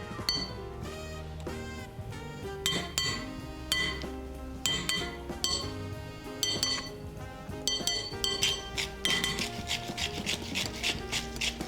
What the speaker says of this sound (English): And then mix it again.